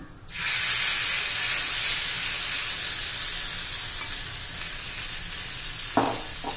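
Fasting vada made from raw potato and varai batter fries in ghee in a pan, giving a steady, close, loud sizzle that starts abruptly and holds, with a light clink of a utensil near the end.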